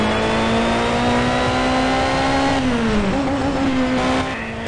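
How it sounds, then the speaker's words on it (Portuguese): A racing car in Need for Speed: Shift holds a steady engine drone, then drops pitch through gear shifts as it slows, loud and close with no talk. "A troca de marcha, a desaceleração do carro, caraca, tá deliciosa de se escutar."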